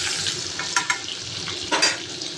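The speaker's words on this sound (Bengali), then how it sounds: "তেলটাও গরম হয়ে গেছে, এখন পটলগুলো ভালো করে ভেজে নেব" Pointed gourd (potol) frying in hot oil, a steady close sizzle with a few sharp crackles and stirring scrapes, no voices.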